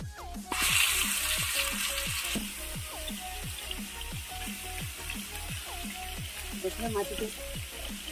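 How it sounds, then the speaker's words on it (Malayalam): Chicken pieces for biryani frying in oil in a pan, a steady hissing sizzle that bursts louder as the pieces go in, overlaid with repeated faint tonal chirps, and no one speaking. "ഇനി നമ്മൾ അതിനകത്ത് തന്നെ ചിക്കനും കൂടെ ഫ്രൈ ചെയ്തെടുക്കാമെന്ന് വിചാരിച്ചു"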